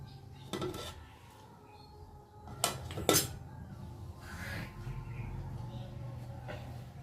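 A pot of cooked rice is lifted off a home kitchen stove, giving a few sharp metallic clanks and knocks of the pot and lid against the burner, loudest around the middle, with quieter handling noise and a low room hum.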